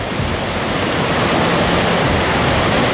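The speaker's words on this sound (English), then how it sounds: "Here you see the main portion of the falls, water crashing down" Victoria Falls on the Zambezi River, viewed from the Zimbabwe side, roars as a dense, unbroken wall of crashing water, loud and constant with no voices.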